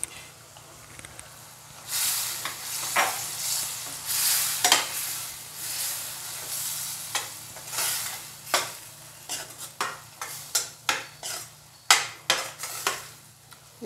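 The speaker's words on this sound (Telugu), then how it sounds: "ఇప్పుడు కారం ధనియాల పొడి వేసుకున్నాం కదా, 1 నిమిషం మగ్గనిచ్చుకుందాం." Spinach fries with chili and coriander powder in a pan while a spoon stirs it, soft sizzling under repeated scraping strokes that grow sharper and more rhythmic toward the end, close and clear.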